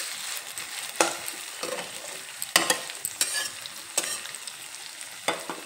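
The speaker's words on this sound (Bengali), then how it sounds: "টমেটো দিয়ে আবারও একটু নেড়ে চেড়ে নেব।" Chopped tomato being stirred into the masala for a Bengali bhola fish and potato curry in a pan, a soft sizzle broken by sharp scraping strokes of a spatula about every second.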